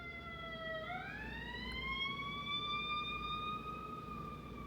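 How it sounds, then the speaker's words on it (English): An emergency siren wails alone at moderate distance, holding a steady tone before sweeping upward and settling into a higher sustained note over faint background hum. "we had a siren"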